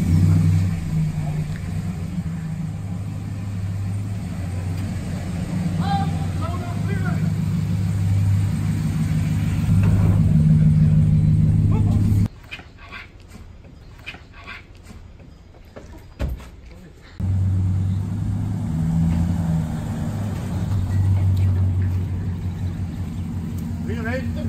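A vehicle engine drones low and steady as it sets off at a traditional costume consecration and yodelling gathering in Flühli, cutting out briefly midway before the rumble returns, with voices faintly present.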